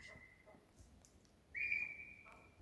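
Two high, piercing sika deer alarm whistles in the distance: a faint thin one, then after a pause a louder, sharper one held briefly, over quiet outdoor air in the Northern Kaimanawas.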